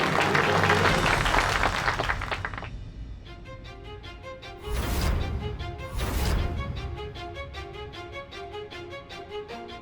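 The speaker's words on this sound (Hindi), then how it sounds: "तो जोरदार तालियों के साथ स्वागत कीजिए अपने प्रतियोगियों का" A crowd applauds to welcome competition contestants in a television drama. The clapping is dense for about two and a half seconds, then gives way to bright rhythmic music with swelling bursts.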